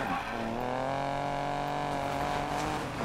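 A fast race car engine in Need for Speed Payback roars steadily at high revs throughout, its rising whine loud and close with no pauses.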